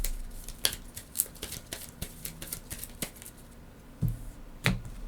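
Playing cards from the Ada's Dream board game are shuffled by hand at a table, a quiet series of soft snaps and riffling flicks in irregular bursts, close up, with no talking.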